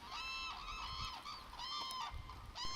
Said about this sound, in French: C'est la grue du Japon, symbole de longévité, de pureté et de bonheur dans la culture japonaise.